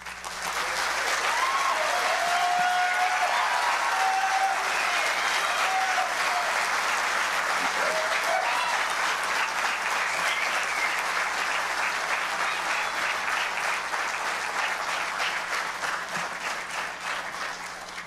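Sustained audience applause fills an awards ceremony hall, dense and steady clapping from a large crowd lasting the whole stretch, slowly tapering near the end with no talking over it.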